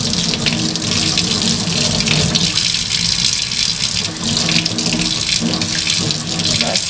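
A tap runs steadily into a sink, a loud continuous gush of warm water being filled to bathe orphaned puppies, unbroken for several seconds.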